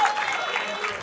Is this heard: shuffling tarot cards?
no